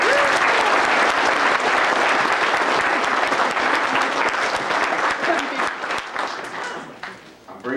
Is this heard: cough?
no